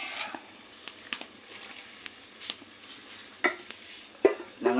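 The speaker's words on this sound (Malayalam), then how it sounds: "അതിലേക്ക് മീൻ ചേർക്കാം." Fish pieces go into a pan of curry with turmeric, coriander powder, tomato and tamarind water, giving soft scattered clinks and wet taps against the pan, quiet with a few sharper knocks near the end.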